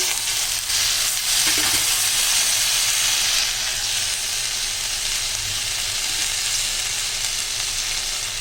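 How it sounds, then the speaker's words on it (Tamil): Manathakkali greens go into a pan of softened onion and tomato, a strong, close, continuous sizzle that holds steady and fades only slightly toward the end. "இந்த கீரையை போட்டு இதிலே நல்லா நம்ம வதக்கலாம்"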